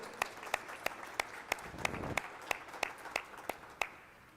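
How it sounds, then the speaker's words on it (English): Quiet applause at a social media breakfast gathering, a few sharp individual claps standing out at a fairly regular rhythm above a soft bed of general clapping, fairly distant. "Please give our sponsors a big round of applause."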